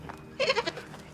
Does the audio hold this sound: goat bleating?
yes